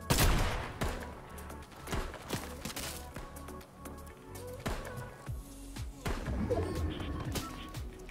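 Video game shooter gunfire: repeated sharp shots and bursts, some near and loud, others more distant, ring out steadily amid a busy mix of game effects.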